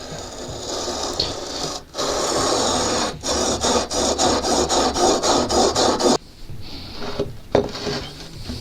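A plane blade is honed on a Stanley sharpening system to a 30-degree secondary bevel, giving loud, close, rhythmic rasping strokes in quick repeated passes after a couple of longer rubs.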